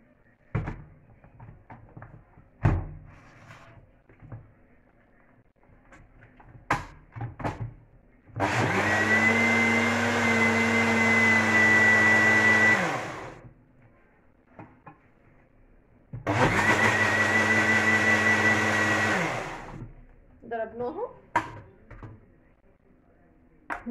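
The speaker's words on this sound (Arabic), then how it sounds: "نضربها في الخلاط" An electric kitchen blender whirs through qatayef batter of flour and baking powder in two long bursts of about four seconds each, loud and close, separated by quiet clinks and handling noises.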